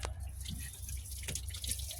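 Dirty, rusty coolant drips and trickles from a heater hose pulled off a Ford Focus engine, a steady close patter of small drops over low background hum.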